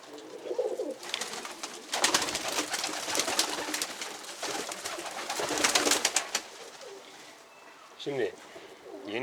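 Pet pigeons in a loft cooing and fluttering close by, with bursts of wing flapping and soft calls while someone talks in Turkish over them.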